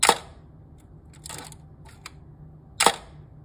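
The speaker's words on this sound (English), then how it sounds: "This is the super thin titanium or titanium focal plane shutter," Titanium focal plane shutter of a Canon F-1 professional SLR film camera firing three times, each a crisp, close mechanical snap with pauses between and a fainter click in the middle, with no voices.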